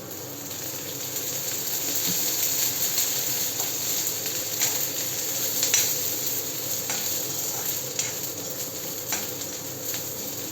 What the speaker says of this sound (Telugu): సరే వేగిపోతుంది.